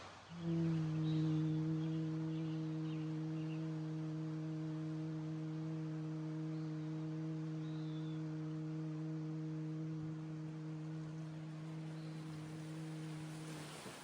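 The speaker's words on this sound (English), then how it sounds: "And humming on the exhale." Steady, sustained humming on a long exhale during bee breath breathwork, a low continuous voiced drone with a rich set of even overtones, close and unbroken for over a dozen seconds.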